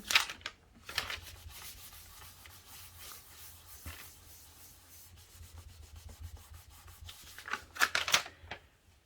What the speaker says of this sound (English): Got a little bit of smoothing down to do on this side.